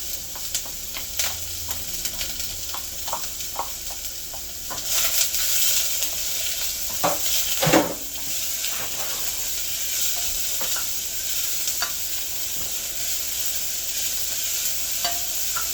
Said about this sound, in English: adding our red onion and garlic. Sizzle, it says. That's the sound you want to hear